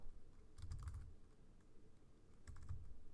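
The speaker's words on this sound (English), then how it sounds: "my typing is not good" Two short bursts of typing on a computer keyboard, quiet and close, with keys clacking in quick clusters separated by a pause.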